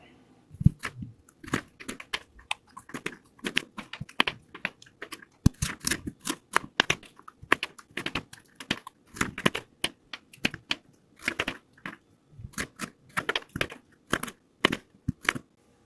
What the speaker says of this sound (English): I'm going to cut these up small and I'm going to boil them in the pot.